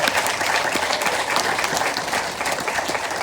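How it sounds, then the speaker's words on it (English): Audience applause for a panel of speakers at a domestic violence awareness event, steady dense clapping from a crowd filling the room with no voices over it. "let's give our panelists a round of applause"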